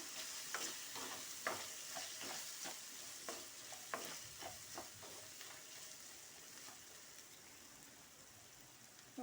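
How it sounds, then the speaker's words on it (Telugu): Ginger garlic paste stirred in a pan, a quiet sizzle under repeated scraping strokes of a spoon at an uneven rhythm, with no talking. "మనం దీంట్లో అల్లం వెల్లుల్లి పేస్ట్ వేసుకుందాం. బాగా కలిపిస్తున్నాను."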